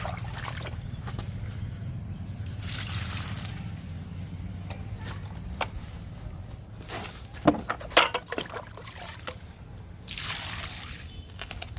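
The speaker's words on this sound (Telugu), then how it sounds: "స్పైడర్ లిల్లీకి వాటర్ ఇస్తున్నా." A spider lily in a sunny garden gets watered, with irregular trickles, drips and splashes of water onto soil and leaves, close and moderately loud, with a few louder spatters near the middle.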